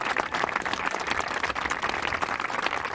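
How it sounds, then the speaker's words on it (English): An audience applauds at a Cory Booker speaking event: dense, even clapping from many hands that fills the moment without a break, with no voice heard over it. "you can definitely applaud her for that too"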